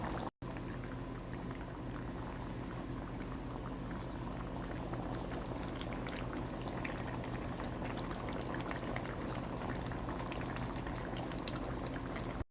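Hilsa fish curry with potato and eggplant simmering in a pot, a steady, dense bubbling boil that runs without pause for the whole stretch, close and even in level, with no voices.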